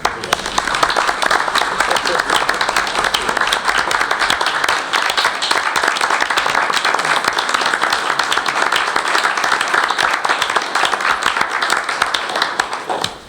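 Sustained applause from an audience at a school board meeting, dense steady clapping filling the room loudly and continuously before tapering off at the very end.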